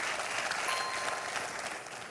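Applause in a studio on the French quiz show Questions pour un Champion as a contestant claps for a correct answer, a soft, even patter of clapping throughout, fairly faint and with no talking.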